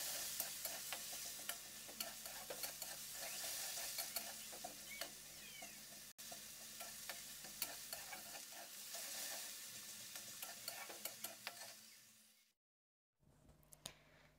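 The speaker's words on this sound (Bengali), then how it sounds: "পেঁয়াজটা আমার ভাজা হয়ে গেছে" Chopped onions frying in a pan, a continuous close sizzle with repeated scraping and stirring clicks of a utensil, briefly dropping to silence near the end before resuming.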